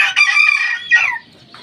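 A Kelso sweater gamecock rooster gives a short, loud, close crow that breaks into a clucking note, then falls quiet.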